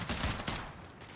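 A rapid burst of close, loud gunfire from the video game Warzone crackles for about half a second, then its echo trails off.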